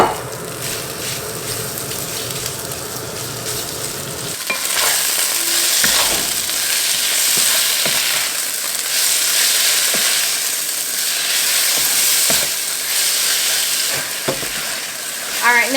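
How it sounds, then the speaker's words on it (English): Beef strips hitting a smoking-hot wok of oil for Chinese beef and broccoli, a loud steady sizzle that swells as the meat goes in, with occasional clanks of a utensil stirring, and no talk. "we're going to add in our beef. It's not going to take long at all for this to fry up."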